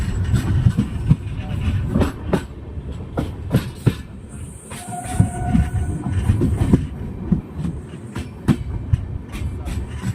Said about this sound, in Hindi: इंडियन रेलवे का डीजल लोकोमोटिव